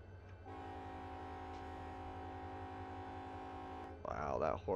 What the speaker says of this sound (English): that horn sounds really good on that train